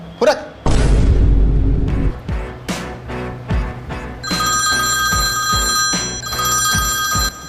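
An electronic telephone ringtone trills repeatedly with a steady, bright pulsing tone, preceded by a loud low boom and some background clatter.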